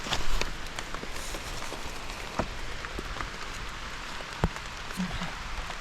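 Steady rain pattering on a surface outdoors during mushroom foraging, a continuous wash of drops with a few sharper taps, no voices.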